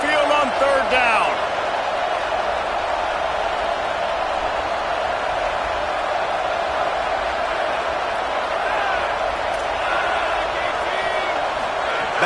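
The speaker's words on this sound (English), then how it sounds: "Tide crowd rolling noise down onto Saban Field on third down." Dense stadium crowd roar for the Alabama Crimson Tide at Saban Field on third down in a college football video game, a steady loud wash of cheering throughout with commentary voices faintly under it.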